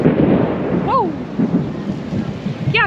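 Baseball-size hail pounding a vehicle and cracking its windshield, a steady, heavy roar of impacts with a few whistling tones over it and no clear talk.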